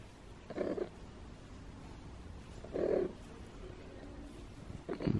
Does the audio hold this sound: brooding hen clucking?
no